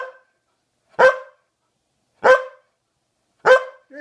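A Labradoodle barks three times in answer to a counting question, loud close single woofs spaced about a second apart, with a faint trailing sound at the start and end.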